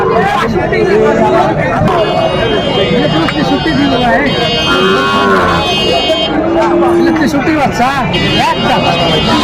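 A Sahiwal bull lows at a cattle market in Chattogram, its drawn-out moos rising over constant crowd chatter and nearby voices talking loudly.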